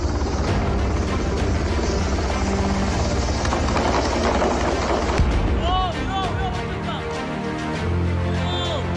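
A military helicopter evacuating wounded Israeli soldiers in southern Lebanon near Taibeh makes a loud, steady rotor roar throughout, broken by sharp bursts and whistling chirps later on.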